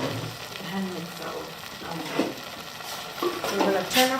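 Fresh chilli sauce bubbles gently in a pot, giving a steady close-up simmering sizzle with scattered soft pops and faint stirring clinks, no one talking.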